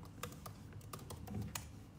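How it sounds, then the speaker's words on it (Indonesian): Fingers type on a laptop keyboard in quick, irregular clusters of light, close clicks and taps, quiet and with no voices. "aku tuh suka banget sama suara ketik laptop gitu guys"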